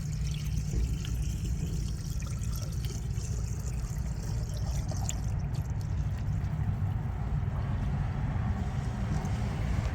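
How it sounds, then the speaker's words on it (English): Fresh diesel fuel is poured into the water separator of a Volvo VNL780 truck, a steady close trickling pour that runs unbroken for ten seconds with a low rumble beneath it. "Fill the water separator with the fresh fuel."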